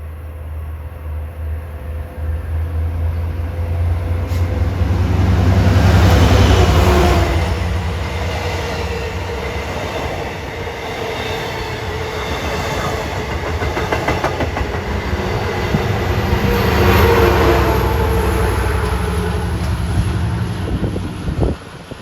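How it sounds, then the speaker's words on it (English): A long Long Island Rail Road diesel train rolls past on the Main Line, its engine rumble swelling and fading with steady clickety-clack of wheels over rail joints, loud and close throughout. "Big train."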